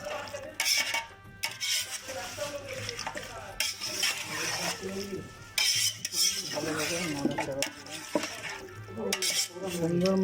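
Spice paste of ginger and garlic is worked by hand into two kilograms of meat, giving wet squelching and slapping sounds mixed with clinks of metal dishes. A person talks over the kneading, which is close and fairly quiet.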